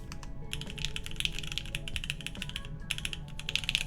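Rapid typing on an Angle65 custom keyboard with a grommet mount, a steady run of close, crisp keystroke clacks with a short pause near the middle, played alone.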